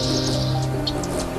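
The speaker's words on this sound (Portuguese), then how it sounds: "já é possível acordar na madrugada com o canto dos pássaros" Birds sing at dawn in spring, with a few short, high chirps standing out over a steady, fuller background sound.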